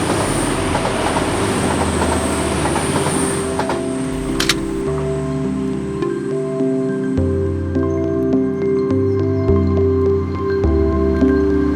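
A train rumbles steadily past near Tinsley and Brightside in Sheffield, with rolling wheel noise and a persistent metallic hum, loud and close, with no voices.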